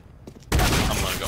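Rapid gunfire bursts out in an online shooter game, a dense loud volley that starts suddenly and keeps going, following a brief quiet moment with faint voices.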